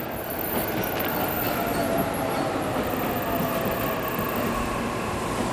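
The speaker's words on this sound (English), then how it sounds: "Well, that's my train." A train pulls into a station in the video game 13 Sentinels: Aegis Rim, a steady loud rumble of rail cars with faint high metallic tones, continuous and near with no talk.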